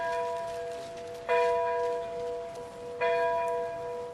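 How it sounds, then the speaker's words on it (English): Two deep church bell strikes ring out in Kiev about two seconds apart, each tolling and slowly fading, with no voices. "Bells tolled 30 times in Kiev, once for each year since the world's worst nuclear disaster."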